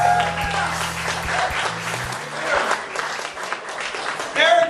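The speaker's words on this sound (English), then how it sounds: "make some noise, put your hands together for your headliner" A comedy club audience applauds and cheers for the headlining stand-up comedian, a dense wash of clapping under a voice speaking over the crowd with amplified stage sound.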